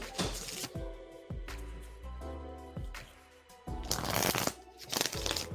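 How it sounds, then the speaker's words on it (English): Tarot cards are shuffled close by in repeated riffling, flapping bursts, growing louder and busier toward the end. "Philomena, we're shuffling for you now"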